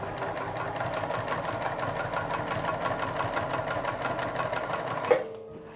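Juki TL 2010Q sewing machine stitching steadily through five stacked fabric layers, a rapid even mechanical whir with fast needle clatter, close and continuous, then cutting off abruptly near the end.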